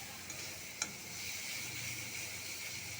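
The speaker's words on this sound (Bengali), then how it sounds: "এখন মশলাটা ভালো করে কষিয়ে নিচ্ছি পেঁয়াজ" Onion and spice paste of green chilli, ground cumin, ginger, salt and turmeric frying in a pan, giving a steady, quiet sizzle with one brief clink, no talk.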